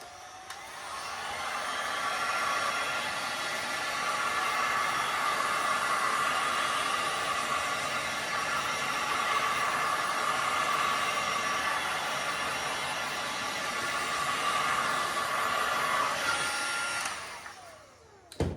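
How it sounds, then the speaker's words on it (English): A heat gun blows hot air in a steady, loud broadband rush that holds for about seventeen seconds, then cuts off near the end. "I'm just going to put the heat gun on it now and heat it up and move it around."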